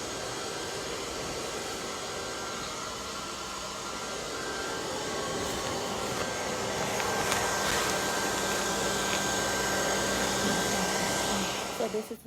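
A hair dryer runs steadily during a loc retwist, a constant whooshing blower drone with a faint whine that swells slightly midway before cutting off at the end.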